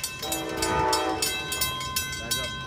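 A passenger train pulls into a station in the northeastern United States, its horn sounding in a sustained blast near the start, followed by rhythmic clacking of wheels over rail joints as it draws close.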